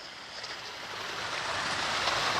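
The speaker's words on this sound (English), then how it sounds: "love the little waterfall feature." A small decorative waterfall feature beside a curved pool at a luxury home in a nature preserve in Waxhaw, North Carolina, gives off a steady, moderately close rush of splashing water, continuous and unbroken throughout.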